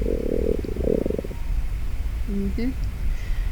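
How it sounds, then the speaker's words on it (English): A stomach rumbles loudly in a low, gurgling burst lasting about a second, followed by quieter squeaky gurgles against a steady background hiss. "right on cue, my stomach rumbles loudly"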